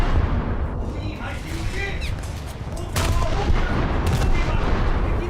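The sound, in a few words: naval guns firing in video game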